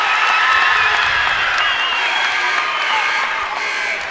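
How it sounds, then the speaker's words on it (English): A high school boys basketball crowd of Preston and Pocatello fans cheers and shouts in a gym, a dense, steady roar of many voices at close range lasting the whole stretch. "Crowd coming alive as the Indians get a little momentum here."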